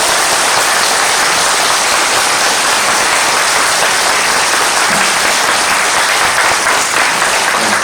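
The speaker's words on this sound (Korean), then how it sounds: "다시 한번 뜨겁게 박수 한번 더" Dense, loud applause from a school audience after a philosopher's special lecture at a high school, sustained and even throughout like heavy rain, with no break.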